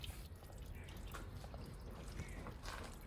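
Engine oil drips slowly from a 2004 Nissan Micra K12 after oil filter removal, faint soft intermittent drips over a low background hiss.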